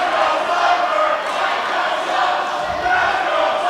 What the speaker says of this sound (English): And as you can hear, the crowd are going nuts here.